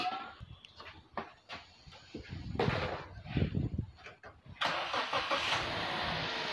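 A Toyota Calya with a VVT-i engine cranking and starting after cleaning of its OCV and MAF sensor, with a brief starter whir before the engine catches and settles into a steady close idle, people talking nearby.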